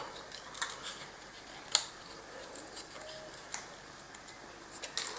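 Scissors snip around a paper sentiment tag, fussy-cutting it by hand: a few soft, scattered clicks and snips spread out over a quiet room, with one sharper snap partway through.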